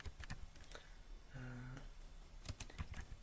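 Code is typed on a computer keyboard in quick, close clicking bursts, pausing midway while someone speaks briefly, then the keystrokes resume.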